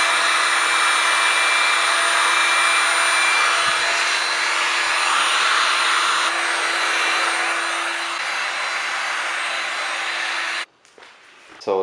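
A heat gun warms double-sided tape on a Chevrolet Corvette C8 Z06 side skirt, blowing a steady, loud whooshing roar with a faint hum for about ten seconds before it cuts off abruptly.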